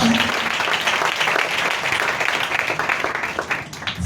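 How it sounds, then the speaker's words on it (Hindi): A congregation claps loudly and steadily during a Hindi-language sermon on being a good soldier of Christ. The applause is a thick, continuous wash from start to finish and stays close and full. "जोरदार तालियां बजाओ बाकी के लिए"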